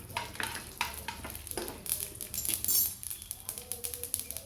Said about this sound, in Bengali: সর্ষেটা একটু ভাজা হয়ে যাবে